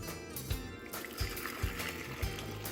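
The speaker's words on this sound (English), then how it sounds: "And I'm going to pour this into my bowl." Liquid, hot water for elderflower syrup, is poured into a bowl, a steady trickling splash with a few soft knocks, fairly close and with no talking.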